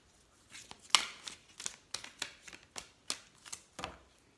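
Oracle card deck being shuffled by hand, a run of crisp riffling flicks and soft paper slaps in an uneven rhythm, close and fairly quiet with no talking.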